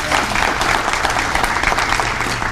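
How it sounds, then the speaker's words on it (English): Audience at a Greater Bowie Chamber of Commerce event applauding steadily, a dense continuous wash of clapping at close range that carries at even loudness from start to finish. "We give him a round of applause"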